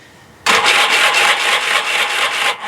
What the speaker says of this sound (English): If you have an XS2 or later bike, your starter will probably sound like this.